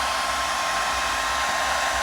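A borrowed household hair dryer roars steadily at close range, a loud, constant broadband whoosh with a faint motor whine, alone and unbroken.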